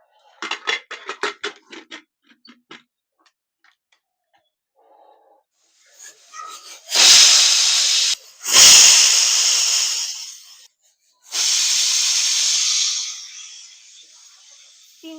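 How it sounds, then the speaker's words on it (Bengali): A pressure cooker holding unripe kul plums and a little water clatters as its lid goes on, then lets out three loud, long hissing steam whistles in quick succession, each a broad rushing blast of a second or two. "এবারে কুকারের ঢাকনা লাগিয়ে 3টে সিটি দিয়ে নেব।"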